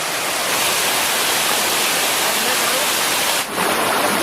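Curug Kanoman waterfall at Gringkingsari, Batang, Central Java, pours in a dense, loud, unbroken roar of falling water, with one brief dip near the end.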